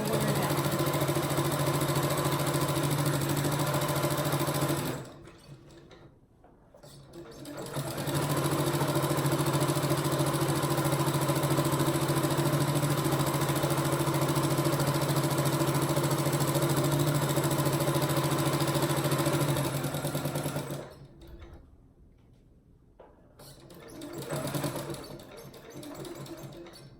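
A sewing machine stitches a pillowcase seam with a steady, close whirring drone that runs in long stretches. It pauses twice briefly while the fabric is repositioned.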